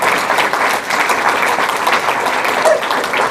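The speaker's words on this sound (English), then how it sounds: "you should give yourself a very loud round of applause for showing your love" Sustained applause from a large audience at an award presentation, steady hand-clapping filling the room for several seconds without letting up.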